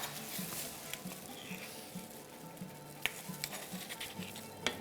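Sugar, glucose, water and honey bubble as syrup in a pot, a soft steady simmering hiss with occasional light clinks and scrapes of stirring.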